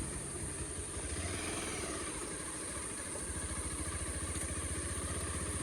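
A motorcycle engine churns steadily on a muddy jungle road near Dharan, its close, continuous throb turning into a sharper, more pronounced rhythmic pulse partway through. No voices are heard.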